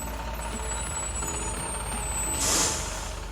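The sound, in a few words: bus arriving down the street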